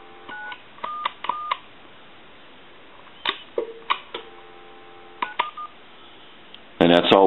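Touch-tone dialing on an AT&T Trimline 210 telephone: several short, distinct keypad beeps in irregular clusters over a quiet line, followed at the end by a louder burst of rapid tones.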